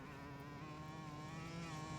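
A steady engine drone hums continuously with a constant pitch and layered tonal whine, sounding like a motorcycle idling nearby in a video game.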